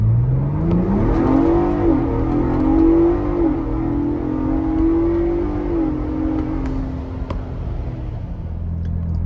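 Tuned Ford Bronco Raptor accelerating hard at wide-open throttle, its engine note climbing loudly through successive gear shifts, rising, dropping and pulling again for several seconds with no talk.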